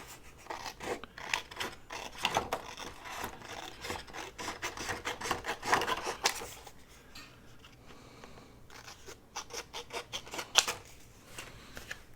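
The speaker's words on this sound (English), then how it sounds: "Why don't I just grab my scissors?" Scissors cut through paper while magnetic bookmarks and journal ephemera are made, giving a run of close, crisp rasping snips with short pauses between bursts and no talk.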